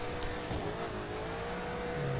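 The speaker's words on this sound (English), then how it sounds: "Third gear, I think it was still spinning wheels by the sound of it." An Alfa Romeo 8C Competizione in The Crew racing game accelerating in third gear with wheels spinning, a steady mid-pitched engine drone rising gradually under a few brief higher effects, no talk.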